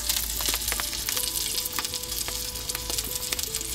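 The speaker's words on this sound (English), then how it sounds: "While the tri-tip is cooking" Tri-tip with a coffee ground rub sizzles and fries steadily in a pan inside a wood-fired oven, a continuous close crackle with brief spits and pops, no voices.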